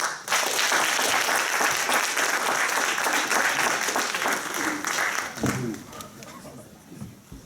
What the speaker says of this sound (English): Let's have another round of applause for Mr.